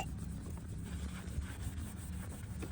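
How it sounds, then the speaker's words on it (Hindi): Cloth rubbing compound polish onto the paint of a Cherry Tiggo 4 Pro, a soft continuous scrubbing close by under low background noise. "कपड़े पे थोड़ी सी कंपाउंड पॉलिश लगानी है और जो एरिया है उस पर आपने रब करना है अच्छे तरीके से"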